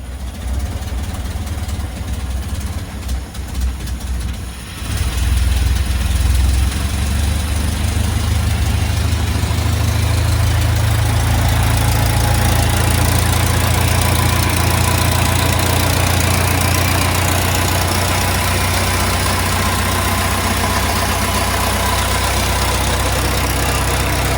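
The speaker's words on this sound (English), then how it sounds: "push start button on the floor. Once it fires, put it over to advance and then slowly creep up the throttle." A Straker Squire vintage car engine with low compression is started: a quiet stretch of cranking, then it fires at about five seconds and settles into a loud, steady, low idle that runs to the end.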